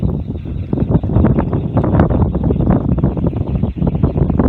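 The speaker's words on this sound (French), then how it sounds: "Un peu de vent." Gusty wind of about 4 metres per second buffets the microphone in a loud, rumbling roar that swells and dips continuously, with no speech, during a small wind turbine test.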